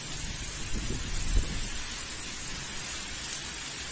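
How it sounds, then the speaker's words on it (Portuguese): Steady rain falls in a dense, even hiss, with a brief low thunder rumble swelling partway through before the downpour carries on alone. "É água no Guaçucê, chuva no Guaçucê"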